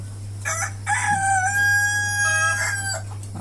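A rooster crows once, loud and close, in a caged local chicken farm, the drawn-out call rising and falling over a steady low electrical hum, with faint clucks around it.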